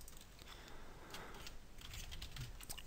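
Typing on a computer keyboard while lettering a web button design in capitals, a fairly quiet, steady run of soft key clicks over a noisy background with no talking.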